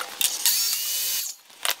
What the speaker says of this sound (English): And then we'll make that cut on the miter saw.